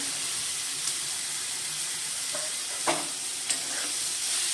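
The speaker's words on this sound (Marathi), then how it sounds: "आपण आता त्याच्यामध्ये मोडालेली मटकी घालूया" Sprouted moth beans stirred into masala in a pan give a steady, quiet sizzle with a few soft scrapes and clinks of a spoon, close by and without talk.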